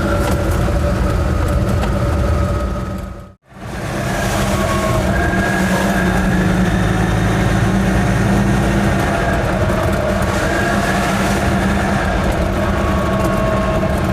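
An Invacar three-wheeler's small engine pulls away in gear with a loud, close, continuous rumbling drone, broken by one brief dropout early on.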